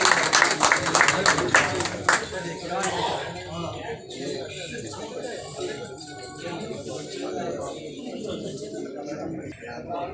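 Audience at a gathering clapping for a child, a burst of dense applause over the first two seconds that quickly fades into crowd chatter and someone speaking.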